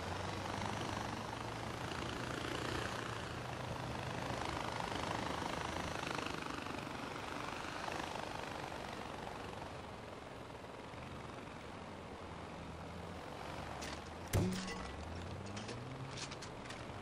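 A helicopter flies in the video game Far Cry 4, its rotor and engine giving a steady, fairly distant drone throughout, with a brief sharp impact near the end.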